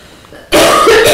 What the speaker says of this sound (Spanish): permite que esa tos se vaya